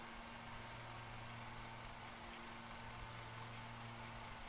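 A riding lawn mower engine in the Lawn Mowing Simulator game drones steadily with a low, even hum, seemingly strained as if overloaded, continuous and moderately quiet with no voices.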